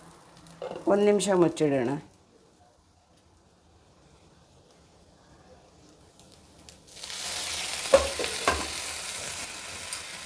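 Coconut dosa batter on a pan with oil or ghee, a soft steady sizzle rising in the latter half after a brief spoken line and a quiet pause, with a few light clinks of utensils.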